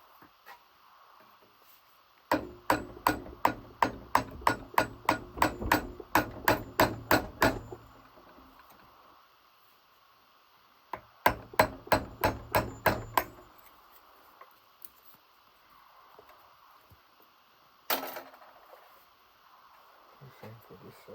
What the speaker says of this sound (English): I'm going to use a hammer and a flathead and take off both